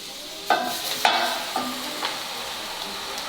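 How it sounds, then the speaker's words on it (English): Tripe being tossed and stirred through browned onions in a pan, with a few sharp utensil clinks against the metal spaced about half a second apart over a soft, steady sizzle, fading as the stirring settles. "We've now browned the onions and we're going to just toss in the tripe."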